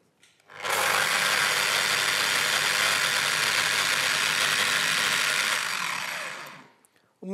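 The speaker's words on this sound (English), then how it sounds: "then I'm making a random orbit plate sanding motion" A Festool random orbit sander running, a steady high-pitched whir that starts, holds evenly for about six seconds at close range, then spins down, with no voices.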